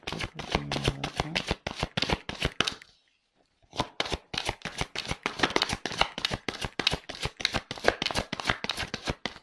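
Playing cards rapidly riffled and snapped in dense, rhythmic bursts, pausing briefly before resuming the quick flicking shuffle, close and crisp with no talking.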